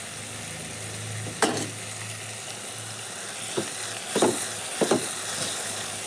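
Tomatoes sauté in a pan with a low, steady sizzle, broken by a few sharp scrapes and clinks of a spoon stirring against the metal.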